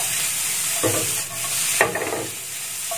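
Scrambled egg fries with a steady sizzle in a pan, broken by two or three louder scraping turns of the spatula as it is flipped and stirred.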